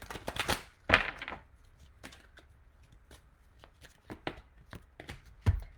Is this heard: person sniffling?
no